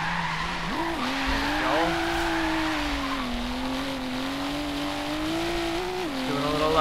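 Car drifting sideways through city streets in Forza Horizon 3, played on a Logitech G920 wheel, with loud continuous tire squeal riding over a steady, wavering engine drone; a voice speaks briefly under it.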